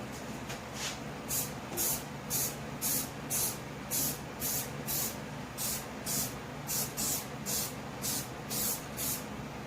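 Short, regular bursts of aerosol spray paint, about fifteen evenly spaced hisses, laying a touch-up coat on a Honda EG5000 generator, fairly close with no talk.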